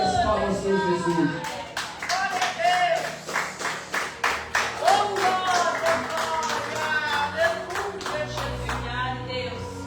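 Church congregation clapping together in praise, a steady rhythmic run of handclaps with voices and music-like tones underneath throughout.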